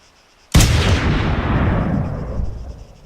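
A single sharp, loud sniper rifle shot in the Arma 3 video game, followed by a long rumbling echo that fades over a couple of seconds, with no voices.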